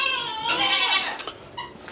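Young goats bleat close by in a farm pen, several overlapping high, wavering cries filling the two seconds with a few shorter bleats near the end.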